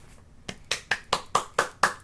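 Seven sharp, evenly spaced claps ring out close to the microphone at a steady rhythm, like one person applauding at a read-aloud session, with near silence between them.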